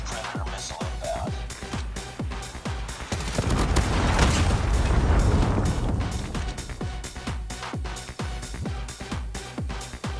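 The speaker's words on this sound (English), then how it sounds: "Friendly predator missile inbound" A predator missile blast in the shooter game Call of Duty Mobile, a deep rumbling explosion swelling in the middle amid steady bursts of rapid gunfire, with no talking.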